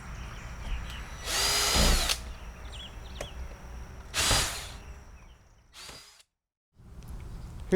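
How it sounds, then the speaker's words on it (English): A power drill boring pilot holes for a door hinge screw on a rolling tool trailer. Three short, loud whirring bursts stand apart, with quiet handling sounds and background noise between them. "pre-drill your holes."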